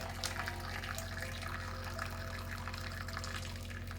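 Hot water pouring steadily into a pot of vegetables, a continuous close splashing stream over a low steady hum.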